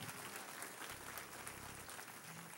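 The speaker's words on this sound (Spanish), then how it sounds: "Dale un fuerte aplauso aplauso al Señor" A church congregation applauding the Lord during a worship service, dense, even clapping from a crowd, fairly soft and steady throughout, with a faint murmur of voices underneath.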